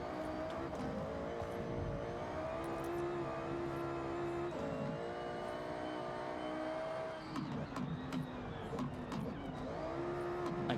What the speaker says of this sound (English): the pops from this Audi S1 are so fucking good